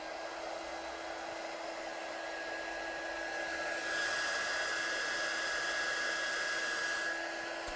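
A hair dryer blows steadily and close by, drying a watercolour-stamped card, with a constant whine that swells slightly louder partway through and no talk.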